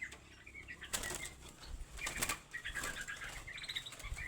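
A large caged songbird flaps its wings in several quick bursts, loud nearby rustling flutters separated by short pauses, with a few faint chirps in the background.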